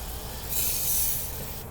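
Aerosol silicone lubricant sprayed onto a motorcycle tachometer cable, a single short hissing burst about a second long, close and moderately quiet over faint background rumble.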